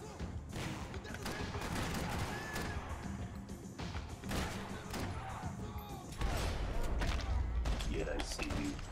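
Gunfire in the video game Max Payne 3, repeated loud shots and crashes in bursts across the scene, mixed with character voices and a heavy rumble near the end.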